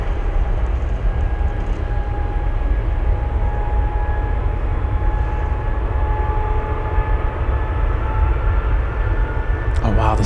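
FedEx Boeing 777 jet engines at Anchorage airport, a loud continuous roar with steady whining tones held throughout, close and dominant.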